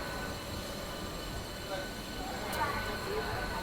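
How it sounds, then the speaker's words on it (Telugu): MEMU passenger train pulling out of Tirupati station, heard from inside as a continuous low rumble of wheels and carriage noise with a brief faint squeal, steady and close throughout. "సో ఫైనల్గా మన ట్రైన్ వచ్చేసి తిరుపతి నుంచి అయితే బయలుదేరిపోయింది"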